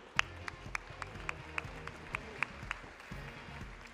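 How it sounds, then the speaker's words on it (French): Sparse applause at an agricultural awards ceremony for special prizes for the Bazadaise cattle breed, with distinct claps standing out over a faint, murmuring crowd and background noise. "Vous pouvez leur faire un tonnerre d'applaudissements"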